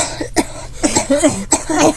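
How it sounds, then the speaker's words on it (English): A few loud, close coughs in quick succession, harsh and throaty, with brief pauses between them and no talking, in a bathroom. "I made a couple big coughs"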